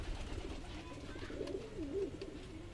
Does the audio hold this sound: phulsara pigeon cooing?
yes